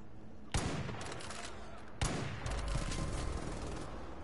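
Heavy machine-gun fire from an MG42 in the shooter game Far Cry 5: two sharp onsets of dense, sustained rapid bursts that fill the clip at close range and high volume, with no talk over it.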